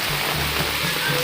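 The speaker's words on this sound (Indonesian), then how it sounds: "Hujan euy." Rain falls in a steady, full wash of noise, near and fairly loud, while a low hum runs faintly underneath.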